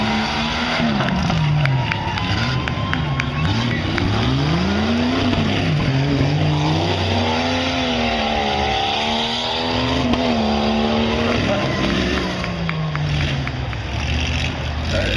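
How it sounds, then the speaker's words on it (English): Big Jeep and big Ford tough trucks racing, engines roaring loudly and continuously with rising and falling revs, close and sustained throughout. "That big Jeep taking on that big Ford."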